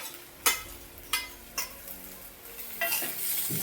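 Fried okra (bhendi) being stirred and sautéed in a pan: a low frying hiss under three distinct spatula scrapes, then a louder rustling stir at the end, close and clear without speech.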